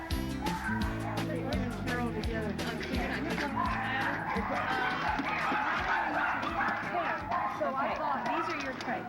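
Many small Chihuahuas yip and bark continuously during a mass rescue, a dense chorus of sharp high barks with some whimpering, close and loud under ongoing talk.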